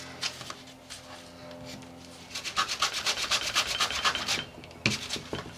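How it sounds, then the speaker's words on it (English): A grunge block sands the top layer off foil letters on a journal page, first soft scattered scuffs and then a close run of brisk, rhythmic rubbing strokes, with a brief pause before a final few passes. "what I am going to do is take the grunge block. And I'm going to sand off"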